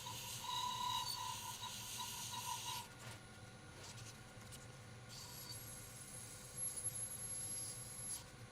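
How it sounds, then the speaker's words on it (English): Hand sanding of an oily wooden finial with fine-grit abrasive, a steady close rubbing rasp that is louder at first, then softer and continuous, with a faint high whine late on. "Tricky parts to get in there to sand some of this stuff."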